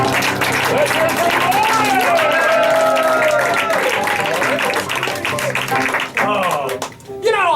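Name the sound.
audience applause at a magic show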